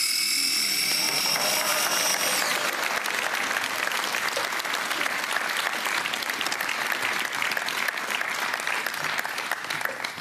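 Studio audience applause on a televised cooking competition, a sustained burst of clapping that swells after a couple of seconds and keeps going loud and dense throughout, following a brief electrical whine from a kitchen appliance being switched on.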